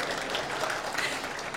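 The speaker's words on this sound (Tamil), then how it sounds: "ஒரு பெரிய கைத்தட்டி முடிச்சிருங்க" An audience at a Tamil public speech breaks into applause, a dense, steady wash of clapping from a crowd that fills the whole moment.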